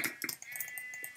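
A sheep in the video game Minecraft gives a short bleat, a quick wavering cry heard close and alone.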